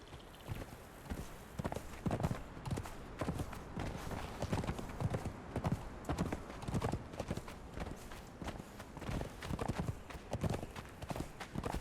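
Horse hooves clip-clopping steadily in the fantasy survival game Conan Exiles, a continuous run of loud, rhythmic thuds with brief faint voice traces in the background.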